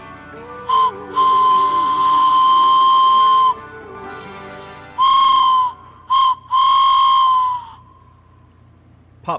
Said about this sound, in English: Pop brought me a train whistle.